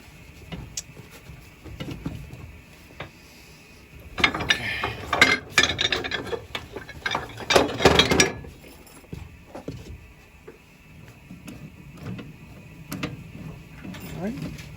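A boot repair machine's wheel is turned to lower its arm, giving clustered metallic ratcheting clicks and clanks that swell in the middle, with quieter mechanical rattles before and after.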